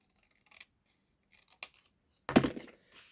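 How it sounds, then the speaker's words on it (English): Scissors snip through card paper for a folded 5 x 7 inch card, giving a few quiet, separate cuts followed by one louder, longer crunching slice close by. "And then we're just going to cut that off"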